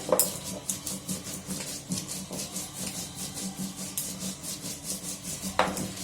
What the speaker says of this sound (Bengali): এই যে আদা আর গোলমরিচ আর জিরে একটুখানি বেটে দেবো শাক সবজির মধ্যে।